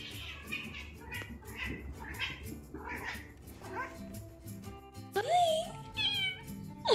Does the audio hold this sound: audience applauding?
no